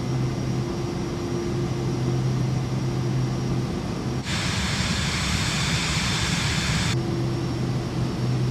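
Helicopter engine in a flight simulator game holds a steady drone with tonal hum, then surges louder and brighter as the throttle automatically runs up to full power, before settling back to the steady hum.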